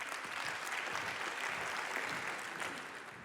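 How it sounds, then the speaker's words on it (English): Steady, even applause from a conference audience at the opening session of the 13th European Conference on Global Health, sustained throughout and somewhat distant, easing slightly at the end. "So a big applause for Heleen"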